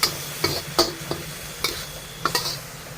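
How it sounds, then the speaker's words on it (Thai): Clams and vegetables stir-fried with basil in a pan: a spatula scrapes and clicks against the metal in irregular strokes over a low, steady sizzle, close and moderately loud, with no talking. "ในขั้นตอนใส่โหระพาเราจะไม่ผัดนานนะคะ ผัดแป๊บเดียวให้ผักยุบก็พอแล้วค่ะ"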